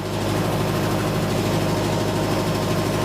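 A tractor engine drones steadily while pulling a two-bottom plow through a garden, a loud, constant low rumble with vibration and no pauses or talk.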